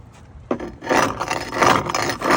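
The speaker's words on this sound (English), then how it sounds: "see how that scraper works" A paint scraper grinds barnacles off a boat hull in harsh, rasping strokes, close and loud, with one sharp scrape at the start followed by sustained gritty scraping.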